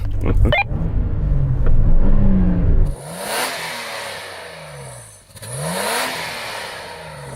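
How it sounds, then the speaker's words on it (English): A standard Nissan Patrol's large engine revs hard, holds high, then drops and rises again in two more surging revs before settling, close and loud. "would you mind just revving up that standard Nissan Patrol, please?"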